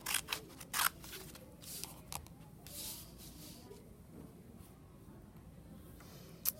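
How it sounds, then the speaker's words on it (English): Scissors cutting paper along drawn lines for paper weaving: a few quick, close, crisp snips early on, then quieter rustling and one final snip, with no talking. "And then cut on this line."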